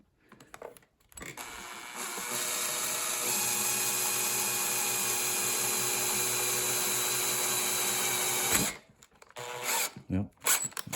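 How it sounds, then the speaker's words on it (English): A power drill whines steadily for several seconds as it bores into a crankshaft oil seal on a Craftsman lawn tractor, loud and close, then cuts off, followed by faint clunks and handling noise. "Don't let your drill rub up against the shaft"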